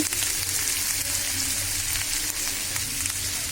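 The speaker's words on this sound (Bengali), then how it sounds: "ভালো করে নাড়িয়ে দিচ্ছি" Beef frying in a pan gives a steady, dense sizzle while it is stirred, with a constant crackling hiss and faint scraping throughout.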